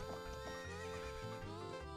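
A horse neighs in Zelda: Ocarina of Time, a loud, clear whinny over about two seconds, with faint game sound beneath and no talking.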